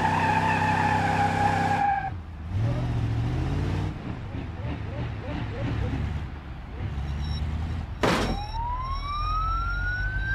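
A police car siren wails briefly in a car driving video game, rising in pitch near the end amid engine noise, tire skids and a crash, with someone talking over the game sounds.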